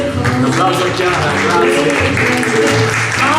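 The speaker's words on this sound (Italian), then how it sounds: "Un applauso a Chiara" Audience applause at an award ceremony on the final evening of a festival, clapping under a jazz band playing, with speech or music tones running through the sound the whole time.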